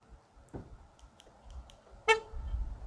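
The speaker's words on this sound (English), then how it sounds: "just push the lock button, wait for it to honk" A short 2020 Ford Escape horn toot sounds once during remote locking, loud and close, after a few faint clicks and amid quiet outdoor background noise.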